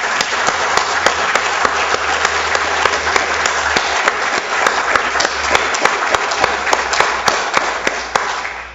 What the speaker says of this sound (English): Ladies and gentlemen, please join me in again applauding these recipients.